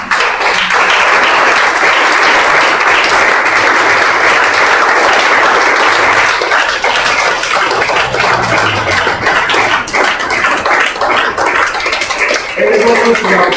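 A church congregation claps loudly and continuously to acclaim Jesus, a dense wash of applause filling the room, with a few voices rising faintly toward the end.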